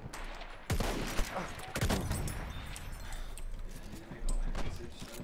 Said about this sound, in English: I just got the urge to destroy some people in here with the Gewehr M95 infantry